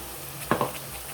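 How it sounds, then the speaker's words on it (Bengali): A spiced potato and pointed gourd curry fries in a pan with a low, steady sizzle. Two quick spatula scrapes come close together midway. "দেখো তরকারিটা কষছে"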